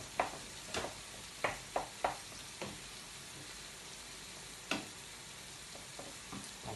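Mince frying in a pan, a steady soft sizzle with a scattering of sharp spoon scrapes and taps against the metal, heard close and fairly quiet with no talking.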